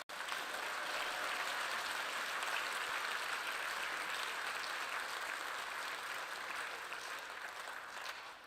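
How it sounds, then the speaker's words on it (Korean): A conference audience in a large hall gives a steady, dense round of applause, sustained evenly for several seconds before tapering off at the end. "여러분 우리 진정한 감사의 박수를 오늘 올려주시면 어떨까요?"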